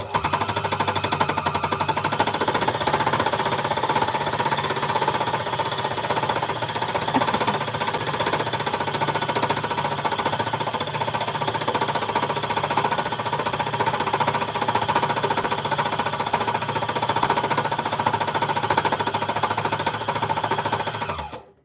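An embellisher machine turning fabric scraps into new fabric runs steadily and loudly throughout, a dense, rapid needle-punching chatter that stays constant from start to finish before cutting off at the very end.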